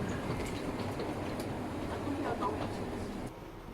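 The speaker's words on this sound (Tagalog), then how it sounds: "Ito yung RX Express train nila dito." An ITX express train in Seoul gives off a steady low rumble of wheels on rails, heard from inside the carriage. Faint clicks and a brief squeal sit over the drone, which drops a little near the end.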